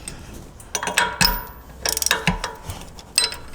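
Ratchet with a 9/16 inch socket working on shock absorber hardware of a Jeep JL Wrangler, giving several short bursts of close metallic clicking separated by brief pauses.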